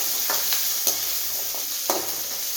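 Green chillies, dried red chillies and small shallots frying in hot oil in a pan for a spinach dish, a steady close sizzle broken by a few sharp stirring clatters, with no talking.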